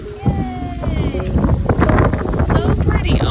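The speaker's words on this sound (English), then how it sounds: "Oh my gosh, it's so windy." Wind rumbles against the microphone outdoors, a loud, uneven low roar with a brief voice murmuring under it near the start.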